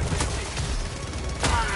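A Gatling gun firing in a first-person shooter, a dense continuous rattle of rapid shots with a couple of sharper bursts, loud and close.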